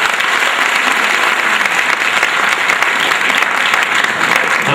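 Audience at a community gathering in an auditorium greets a guest from London with loud, sustained applause, a thick continuous clapping wash that stays at full strength throughout.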